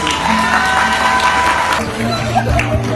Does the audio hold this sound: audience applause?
yes